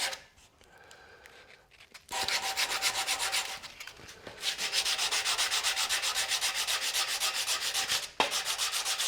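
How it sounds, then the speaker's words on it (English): A wooden spinning top turning on a lathe is hand-sanded in steady rhythmic rasping strokes, close and fairly quiet, with brief pauses between passes. "Sanding these 2 rough surfaces over here."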